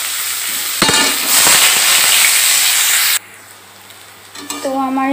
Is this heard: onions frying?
yes